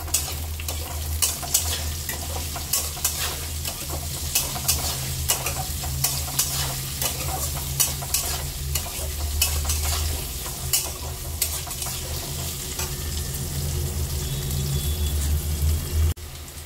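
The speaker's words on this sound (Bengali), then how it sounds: "আলুটাকে লাল লাল করে ভেজে নেব" Potatoes fry in oil with turmeric and salt in a pan, a steady close sizzle running throughout while a utensil stirs and scrapes in frequent irregular clatters, no voices.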